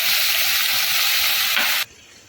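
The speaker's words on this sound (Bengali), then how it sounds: "এবার সেদ্ধ করে রাখা লাউ আর আলুটার মধ্যে দিয়ে দিচ্ছি" Boiled bottle gourd and potato go into a hot pan and sizzle loudly and steadily for nearly two seconds, then cut off abruptly to a faint hiss.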